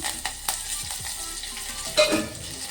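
Garlic, broken dried red chilies and curry leaves fry in hot oil, a steady close sizzle with brief crackles and a louder burst of spattering near the end.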